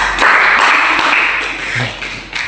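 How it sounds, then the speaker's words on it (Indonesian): An audience at a group session clapping their hands together, a continuous crackling patter of many hands, loud at first and gradually thinning, with a few distinct claps near the end. "Tepuk tangan dulu buat kita semua."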